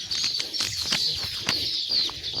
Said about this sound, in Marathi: सुगरण चिमण्यांचं करतात दाखवतो तुम्हाला.